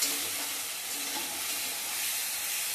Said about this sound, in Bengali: আদা, কাঁচা লঙ্কা, কাজু পেস্টটা দিয়ে দিলাম। দিয়ে এটা ভালো করে কষিয়ে নিতে হবে।